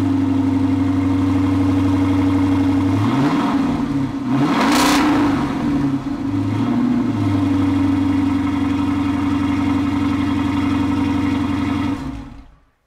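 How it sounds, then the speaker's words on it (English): A 2015 Dodge Challenger R/T engine running at a steady idle, loud and close with a strong low drone, briefly revving in a few blips partway through before settling back and cutting off at the end. "I'm going to get you a quick clip of the vehicle running just so you can get some good audio of that."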